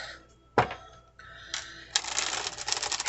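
Tarot and oracle card deck being shuffled by hand for a pick-a-card reading: a sharp tap, then scattered card clicks, building into a rapid riffling flutter of cards near the microphone, with no talking.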